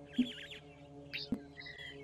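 Magpie shrikes give short laser-like pew calls in an African wildlife setting, a few sharp chirps spaced across two seconds over a low steady hum.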